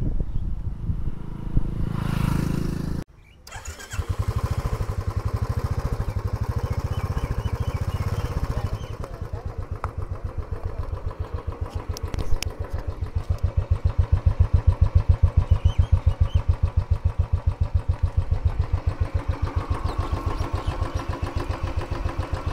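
A Royal Enfield Signals 350 special edition motorcycle with 15,000 km on it starts up and settles into a steady, close thumping idle that runs for a long stretch.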